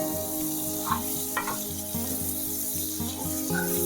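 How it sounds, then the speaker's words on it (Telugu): An aloo sandwich fries in butter in a pan, giving a steady close sizzle throughout with a few soft scraping touches and no talk. "నిదానంగా ఇంకొక వైపు టర్న్ చేయండి చూడండి ఎంత బాగా ఫ్రై అయిందో"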